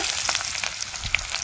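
Dried red chillies and onion fry in hot oil, producing a brief, close, steady hiss with a few light crackles and a single sharp pop near the end.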